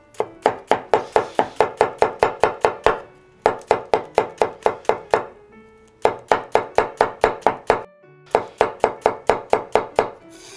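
A Chinese cleaver chops white Japanese leek in fast, even bursts of sharp knocks on a board, four runs of rapid strokes with short pauses between.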